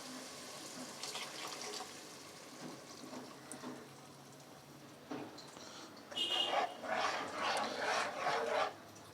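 Water poured into ground masala with fried snake gourd and salt in a pan for sambar, a rushing, splashing pour swelling for the last few seconds after quieter kitchen clatter.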